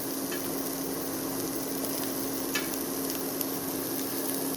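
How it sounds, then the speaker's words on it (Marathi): Two sliced onions frying in hot oil in a pan for a Goan clam masala curry, giving a steady, even sizzle with occasional faint stirring clicks and no voices. "सो आता गोल्डन ब्राऊन जायसर तळशिता"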